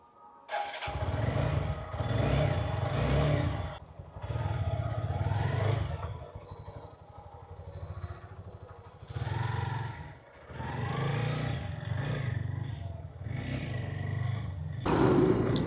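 A motorcycle ride heard from the rider's wireless clip-on microphone, with low engine roar and heavy wind buffeting swelling and dropping in long waves as the bike accelerates and eases off, and occasional faint higher tones.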